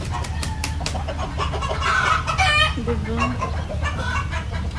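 Many roosters and hens at a mixed poultry farm cluck and chatter in a loud, busy chorus close by, while a person briefly speaks over the flock.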